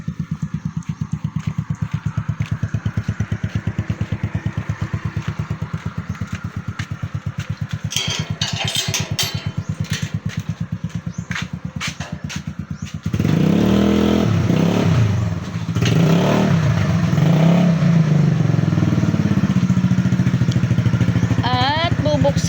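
A motorcycle engine with a broken exhaust idles with a steady, rapid putter, then gives way to louder, rougher engine noise with talk in the background.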